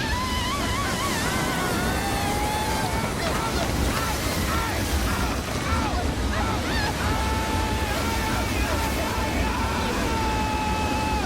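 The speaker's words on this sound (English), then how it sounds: "Kevin uses the showers to flush the duo out" Showers spraying water in a bathroom in a movie scene, a dense, loud continuous hiss and rush of water filling the whole stretch, with voices and a faint tone rising briefly underneath.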